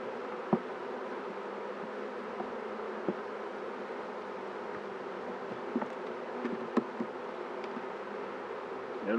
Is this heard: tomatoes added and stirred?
no